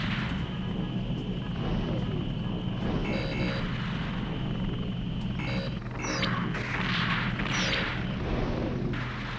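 Two helicopters approach in the video game Gundam: Zeonic Front, a continuous rotor and engine rumble under game sound effects, with short tonal beeps and electronic chirps over the droning noise.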